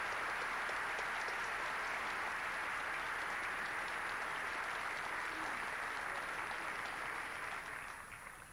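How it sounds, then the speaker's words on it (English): Sustained applause from a forum audience for a panel on international affairs, a dense steady clatter of many hands that carries on for several seconds before thinning out at the end. "I hope you'll give another round of applause to our entire panel"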